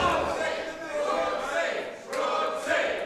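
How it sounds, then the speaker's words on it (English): A crowd cheers and chants at a professional wrestling show, a steady roar of voices swelling and dipping in the arena beneath a commentator's talk. "As you can hear the crowd trying to cheer on Brooksy."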